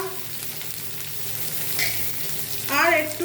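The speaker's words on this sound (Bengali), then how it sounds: "টমেটো দিয়ে এগুলোকে ভালো করে ভেজে নেব।" Garlic, ginger and tomato fry in hot oil in a pan for an egg curry, giving a steady close sizzle throughout, with a brief spoken remark and a louder burst of stirring near the end.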